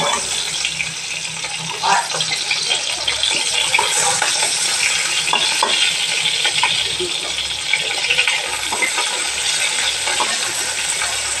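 Small fish frying with pointed gourd in a pan, lid off as the pieces are turned, giving a steady close sizzle with scattered clinks and scrapes, no talk.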